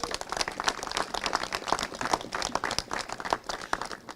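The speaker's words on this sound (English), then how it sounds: "Let's give them a big round of applause." A small crowd applauds at an announcement of city youth program funding, with quiet, scattered hand claps patting along unevenly at a distance and no talk over them.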